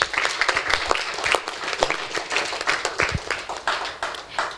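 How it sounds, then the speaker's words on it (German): Carnival crowd at a festive fool's session in Trier applauding loudly and continuously, a dense wash of many hands clapping close by with scattered sharper claps throughout. "Seht her, sieht sie nicht super aus. Lucy von Markusberg, dein Applaus."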